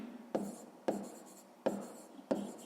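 Pen writing by hand on paper during a sixth-grade maths exercise, four quick scratchy strokes each starting with a sharp attack, close and quiet, no talking.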